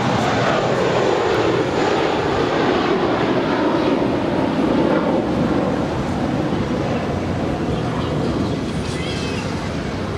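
An American Airlines jet takes off from runway 25 right at LAX, a loud, steady roar of jet engines that fills the whole stretch and fades slightly toward the end.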